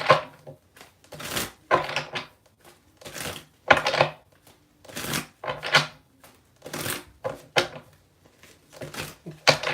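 Tarot cards are shuffled by hand in quick, irregular bursts of crisp riffling and slapping, close and fairly loud, with short pauses between each flurry.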